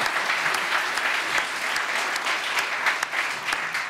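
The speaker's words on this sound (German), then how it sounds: "Applaus" A literary event audience applauds after a reading, a steady, even wash of clapping from many hands lasting a few seconds, without voices.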